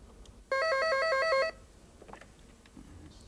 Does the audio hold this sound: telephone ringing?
yes